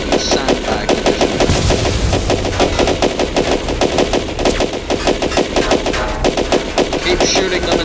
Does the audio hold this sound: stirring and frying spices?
no